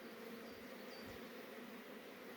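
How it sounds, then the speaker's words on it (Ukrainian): Honeybees fly around their hive at an apiary on a mild January day, a faint continuous buzz of many insects with low hum bands, steady and soft, with no voices. "Бджілки гарно літають."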